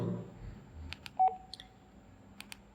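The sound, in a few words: alert tone from Baofeng UV-5R Mini handheld radio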